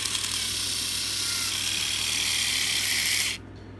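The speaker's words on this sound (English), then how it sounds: "The motor works" A Tomy Plarail EF81 toy train motor with cracked gears runs with a steady, bright mechanical whine for about three seconds, then cuts off abruptly, leaving near silence.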